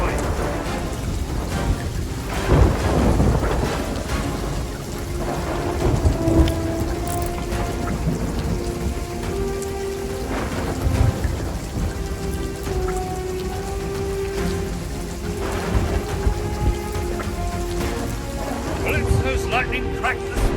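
Steady rain and rolling thunder in the pirate game Sea of Thieves, a constant wet hiss with low rumbles, plus a clear tonal hum and voices talking over the storm.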